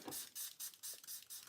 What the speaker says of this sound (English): Let's spray it on something to see what happens.